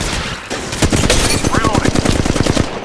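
Rapid automatic gunfire rattles in a steady fast rhythm, loud and close, during a firefight in the mobile shooter Apex Legends Mobile, with some brief faint background sound mixed in.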